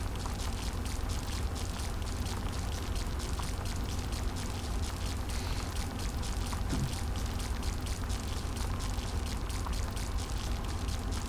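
Steady rain falls in the sci-fi base-building video game The Riftbreaker, a constant even hiss with scattered drop patter and no pauses.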